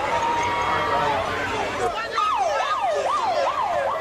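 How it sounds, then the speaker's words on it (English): An ambulance siren wails in a rising and falling pattern, echoing in a large wrestling arena after a stretch of noisy crowd sound. "you can hear the echo from the ambulance being taken away"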